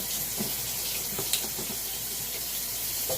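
Steady running water from a tap pours into a sink, a constant wash of hiss with a few faint clinks and knocks, no voices.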